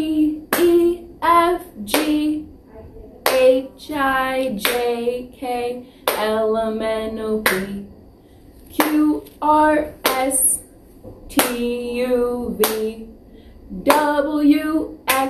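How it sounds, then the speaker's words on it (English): Hands clapping along to the ABC song in a preschool sing-along, steady rhythmic claps under a woman singing the alphabet close by. "let's get our clapping hands out and we'll sing our ABCs together"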